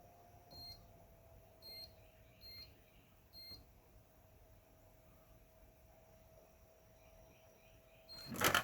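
A multimeter set to continuity mode gives a few faint, short electronic beeps at irregular spacing over a quiet hiss, followed by a brief louder clatter at the end.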